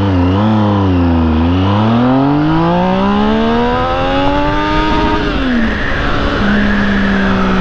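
A three-cylinder engine pulls hard through the gears, its loud harmonic tone climbing steadily, dropping at a shift and rising again with no talk over it.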